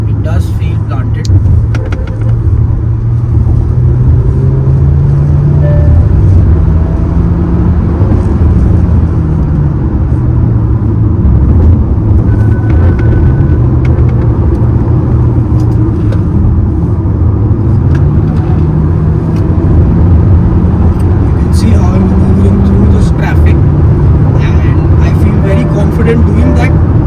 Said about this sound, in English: Full acceleration into the corner, and it's nice. It does feel planted.